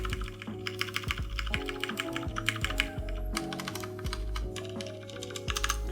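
Close, rapid clacking of a Durgod Hades 68 mechanical keyboard with factory-lubed stabilizers, keys struck in a quick irregular rhythm, with deeper thuds from larger keys and no talking.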